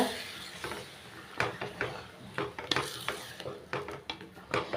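A spoon stirs potato paya curry in a metal pot, with scraping, clinking strokes in an uneven rhythm over a soft background sizzle, close and fairly quiet.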